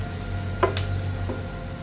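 Ingredients frying in a pan for nati-style mutton biryani, with a low, constant sizzle broken by a couple of sharp clinks from stirring.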